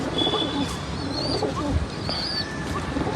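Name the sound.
pigeons cooing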